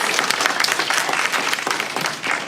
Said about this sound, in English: So let's give a little bit of a round of applause to our teachers.